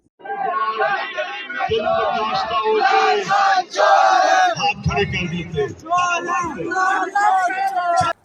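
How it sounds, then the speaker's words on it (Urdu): Students at a rally chant slogans together, loud overlapping voices rising in rhythmic bursts with shouts and crowd hubbub, the massed chanting close and continuous with brief dips between phrases. "ان میں طلباء نعرے لگا رہے ہیں"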